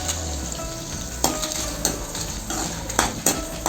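Garlic cloves and five dried red chillies sauté in a pan for a chutney, giving a steady hiss with several sharp spatula scrapes and clinks against the pan, close up and without speech.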